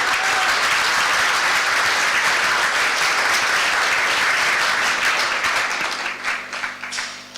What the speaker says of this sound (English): Give yourselves a very big round of applause.